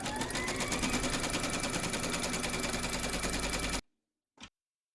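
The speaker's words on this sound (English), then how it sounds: "Then pop your hoop into your machine and stitch round number 1" Embroidery machine stitching a placement outline on a hooped runner, a fast steady mechanical stitching whir close to the microphone, which stops abruptly and is followed by a single brief click.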